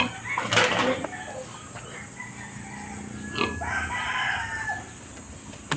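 Fighting cocks (gamefowl) crow loudly and cluck on a farm that also keeps pigs, with one strong crow near the start and shorter calls following over a steady hum of background noise.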